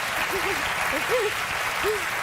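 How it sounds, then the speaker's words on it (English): Studio audience applause on a late-night talk show, a steady wash of clapping throughout with a few brief voice-like tones riding over it. "applause."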